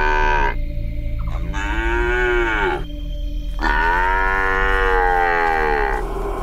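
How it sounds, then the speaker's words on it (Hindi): A calf moos loudly and close by in three long, drawn-out calls with rising and falling pitch, separated by short gaps, over a low steady background. "ठीक उसी वक्त पीछे से एक बछड़े की आवाज सुनाई देती है।"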